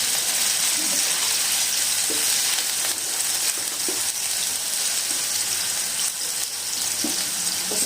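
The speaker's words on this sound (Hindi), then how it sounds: "इसमें हम लहसुन अदरक डाल देंगे।" Garlic and ginger frying with softened onions in a pan, a loud, continuous close-up sizzle with occasional soft clicks and stirring scrapes, no speech.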